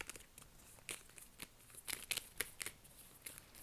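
Tarot cards are shuffled by hand for a reading, giving quiet, close riffling and papery flicks in irregular bursts. The flicks grow busier toward the end.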